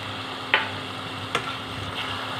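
Tomato paste added to fried chicken in a pan, a soft steady sizzle with a few brief stirring clicks and scrapes.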